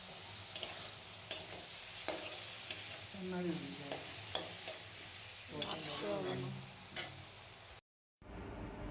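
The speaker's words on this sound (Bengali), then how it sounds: "আর চিকেনটা দেওয়ার পর কিছুটা সময় এইভাবে চিকেনটাকে ভাজতে হবে।" Marinated chicken fries with chopped onion in a wok for chicken chowmein, crackling in a soft, steady sizzle while a spatula scrapes and clicks in repeated strokes, with a brief word spoken over it.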